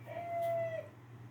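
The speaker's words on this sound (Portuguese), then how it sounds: "o galo tá cantando aí, ó, tá vendo?" A rooster crows once in the early-morning dark, a clear, drawn-out call of just under a second, heard at moderate distance over a low steady hum.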